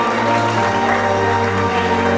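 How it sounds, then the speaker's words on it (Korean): Wedding guests at a hotel ceremony clap warmly as the bride enters on her father's arm, a continuous wash of applause over sustained background music. "계속해서 뜨거운 박수로 오늘의 주인공인 친구를 맞아주시기 바랍니다."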